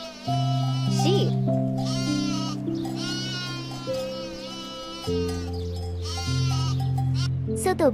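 Sheep bleating several times in quavering, wavering cries, close and clear, with light background music running underneath throughout.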